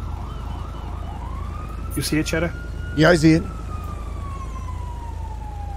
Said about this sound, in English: Oh, there's an ambulance here.